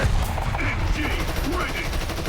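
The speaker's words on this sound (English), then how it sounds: "Machine gun ready for action." Machine gun in War Thunder fired from an AH-60 helicopter, rattling in a steady dense burst of rapid shots that fills the whole moment.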